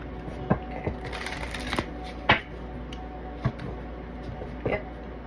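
Tarot cards are shuffled and handled nearby, giving soft papery rustling broken by several sharp little slaps and snaps at irregular intervals, with no one talking.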